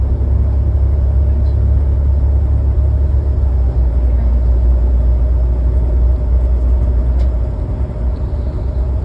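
A SIM1C bus engine drones steadily during a late-night ride, a loud, constant low rumble heard from inside the cabin that eases slightly near the end.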